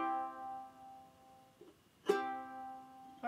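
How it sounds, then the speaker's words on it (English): A ukulele pinch, all strings plucked together on a chord, the chord ringing and decaying, then a second sharp pinch rings out; quiet and close with no talk. "That's a pinch. You play all those strings at the same time."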